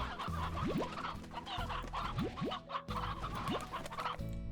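Hens cluck repeatedly on a ranch in the game Slime Rancher, short rising clucks and squawks close by over a low droning background.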